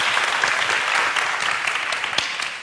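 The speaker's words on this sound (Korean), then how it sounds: "우리 박수 한번 쳐주시죠." Talk-show audience in a lecture hall breaks into dense, continuous applause, loud and even throughout with no speech over it.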